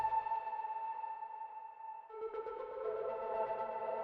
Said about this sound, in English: So already that's bouncing between left and right.